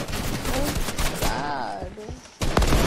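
Sniper rifle gunfire in the Fortnite video game, with sharp, loud shots punctuating a busy mix of game sounds and voices, and a heavy burst near the end.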